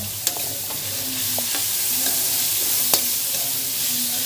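Tomatoes softening as they sauté in a hot pan give off a steady, close sizzle, broken by a few sharp scrapes and clicks as they are pressed and stirred, with no voices.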